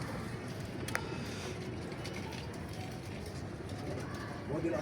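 Pigeons cooing in a loft in Imbaba, soft low calls heard under steady background noise with a faint outdoor hum.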